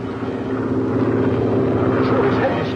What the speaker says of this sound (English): The plane.